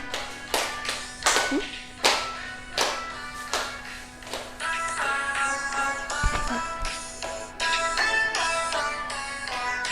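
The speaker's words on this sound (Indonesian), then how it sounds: "Tepuk tangan." Rhythmic hand clapping in a classroom, steady beats at first, then joined by sustained sing-song voices and tones while the claps continue along with them.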